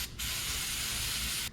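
Carburetor cleaner sprayed from an aerosol can through the holes of an old, dirty carburetor from a U-Haul, one loud, steady hiss lasting over a second with a brief pause at the start.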